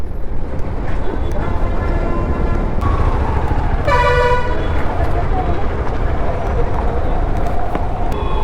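Traffic jam on the road near the Balanagar flyover construction, with a constant rumble of engines, repeated car and truck horn toots and one longer blaring horn, heard amid the noise from a vehicle in the jam, with a voice talking.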